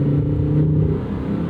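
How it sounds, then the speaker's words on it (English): Naturally aspirated mid-engine V10 of a 2024 Lamborghini Huracan Sterrato, a steady loud engine drone held close by for a brief moment with no talking. "a supercar having a naturally aspirated mid-engine howl and scream"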